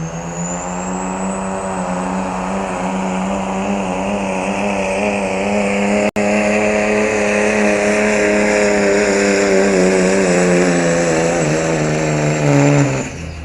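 A diesel truck with a 5.9 engine runs loud and close, its turbo spooling up with a rising whine over a steady, harmonic-rich engine drone that holds for the whole stretch, broken by one sharp click midway.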